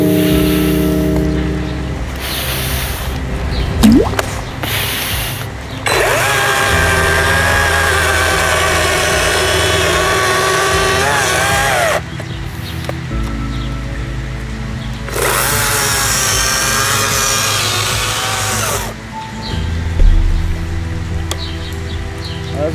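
Cordless battery chainsaw with a 30 cm bar cutting through a 30 cm diameter log, loud close high-pitched whining bursts as the blade bites in, two long cuts separated by lower idle running.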